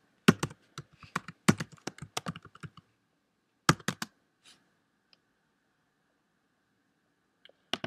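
Code is typed on a computer keyboard, with quick bursts of close, crisp key clacks, a pause, another short flurry, then a few isolated taps in quiet.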